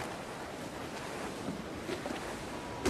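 Wind and waves on a sailing schooner at sea in Assassin's Creed 4 Black Flag: a steady broadband rush of wind and surf runs the whole time, with small swells and a louder gust at the very end.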